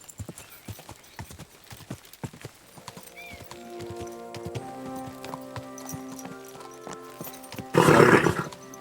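A horse in Kingdom Come Deliverance II clops along with sharp, steady hoof beats at close range. Near the end it gives a loud, harsh whinny.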